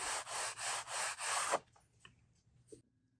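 A 505 temporary adhesive glue stick is rubbed across fabric backing for a patch, giving five quick, even scrubbing strokes close by, then near silence with a couple of faint handling clicks.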